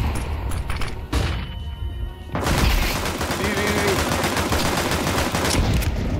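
Dual pistols firing in Counter-Strike 2, a dense burst of rapid shots that starts suddenly partway in and keeps going loudly, with a voice heard faintly underneath.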